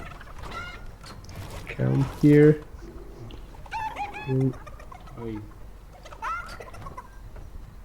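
Cartoonish chickens cluck and squawk back and forth in a video game, a few short bursts of clucking while people talk over them.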